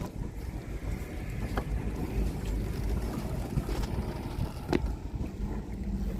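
A boat engine throttles up while manoeuvring to pick up a mooring buoy, giving a steady low rumble under gusty wind noise with a few faint knocks.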